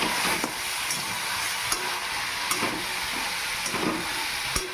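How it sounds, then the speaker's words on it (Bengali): Snail pieces being stirred in a hot pan with garam masala and chili powder, a steady sizzling hiss broken by scattered scraping clicks of the spoon, close and alone with no voices. "গরম মশলা গুঁড়ো আর লঙ্কা গুঁড়ো সব দিয়ে ভালোভাবে নেড়ে চেড়ে নেব"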